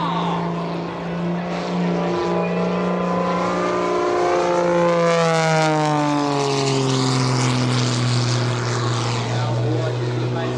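A propeller-driven aerobatic airplane performs an airshow maneuver at EAA AirVenture, rolling over the top of a half Cuban eight; a loud, steady engine drone sweeps downward in pitch as the aircraft passes, with no speech.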